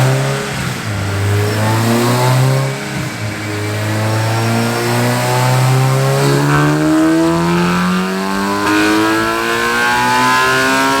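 A car engine revs hard through a final pull on a dyno, its rising harmonic tone climbing steadily and loud for the whole stretch, with a brief dip near the start before sweeping up again, no talk over it.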